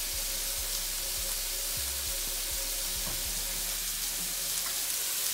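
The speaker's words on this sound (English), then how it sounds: "That meat, y'all, as it's cooking down." Ground meat for party nachos sizzles steadily in a pan, a loud close frying hiss with a few low knocks and scrapes from stirring, no talking.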